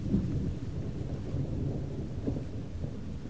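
A thunderstorm in The Evil Within video game: a low, steady rumble of thunder with a rain-like wash, continuous and moderately loud, with no voices.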